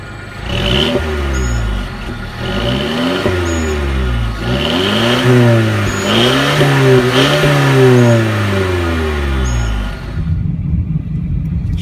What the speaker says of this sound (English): The exhaust definitely has a aggressive tone